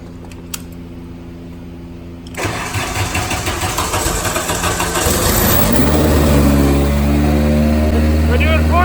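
Toyota MR2 engine cranks over and catches near the start, then idles roughly with a steady low rumble that builds slightly; no talk over it.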